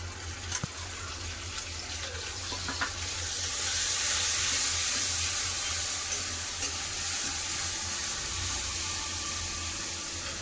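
Ground cumin and chili paste hit hot oil in a pan that already holds fried mango, giving a steady, loud hiss that swells after a few seconds and keeps sizzling with no talk.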